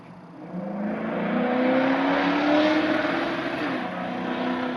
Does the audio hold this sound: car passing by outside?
yes